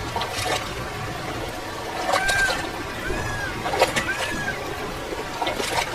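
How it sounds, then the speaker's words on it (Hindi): A bamboo boat glides through cartoon floodwater, with soft watery swishes and splashes under a busy background of music and effects, while a few chirpy tones rise in the middle. "कालू बांस की बनी हुई नाव लेकर उन दोनों की तरफ जाने लगता है"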